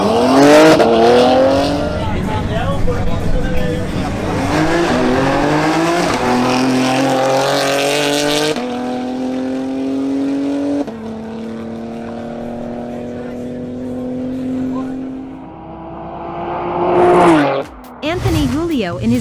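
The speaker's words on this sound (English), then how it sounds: "his BMW X3 M Competition makes a new pass" A BMW X3 M Competition launches on a drag strip, its engine revving hard through a series of rising upshifts, loud and close before fading into the distance; a short engine burst returns near the end, with commentary heard over it.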